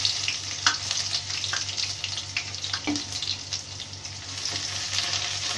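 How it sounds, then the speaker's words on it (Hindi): Cumin, bay leaf and chopped onion hitting hot oil in a pan while making dhaba-style chole, a close crackling sizzle with scattered pops and a low steady hum beneath. "अब इसमें जीरा डाल देंगे, तेज पत्ता डाल देंगे और प्याज डाल देंगे।"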